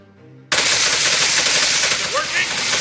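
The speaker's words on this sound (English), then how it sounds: "Keep shooting him." Rapid automatic gunfire from a weapon aimed at a metal robot in the video game Portal, a loud continuous burst starting abruptly after a brief quiet moment with music and running unbroken to the end.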